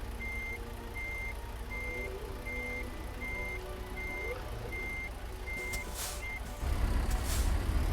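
A truck reverses a small trailer in American Truck Simulator, its backup alarm beeping steadily about a dozen times over a low engine rumble, followed by hissing air-brake bursts and a louder engine surge.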